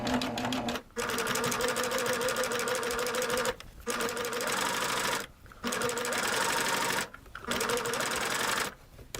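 A serger sewing machine runs at speed while stitching a knit garment hem. Its loud, steady whirring hum breaks off in four short pauses and starts again after each one.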